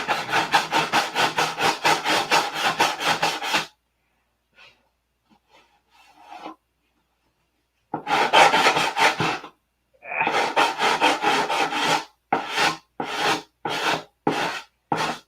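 Bondo body filler on a P-47 model is sanded in quick rhythmic back-and-forth strokes, loud and close, with bursts of rasping separated by a few pauses.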